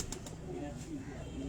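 A pigeon coos on a rooftop pigeon loft in Kasur, soft low burbling calls close by, with a person talking alongside.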